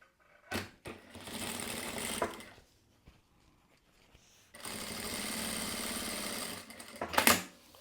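Sewing machine stitching a bag lining together, with two bursts of fast, close mechanical whirring separated by a quiet pause and a few short clicks.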